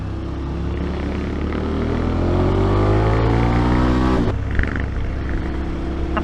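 A motorcycle exhaust roars steadily up close, its pitch climbing as the engine revs, then dropping abruptly before idling on.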